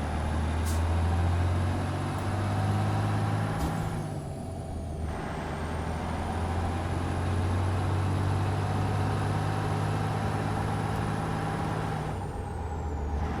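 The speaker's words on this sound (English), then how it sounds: "Man, I love the sound of that turbo as it comes down and you let off the throttle there." Simulated turbo in a W9A modular day cab truck in American Truck Simulator, winding down as the throttle eases: a thin high whistle that sags and recovers over a steady, loud engine drone, with a brief air hiss.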